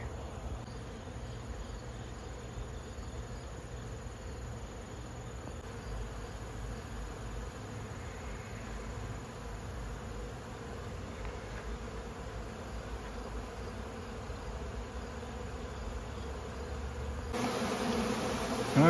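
A steady, low hum of honeybees buzzing around a trap-out entrance, many insects droning continuously at a faint, even level with no voices.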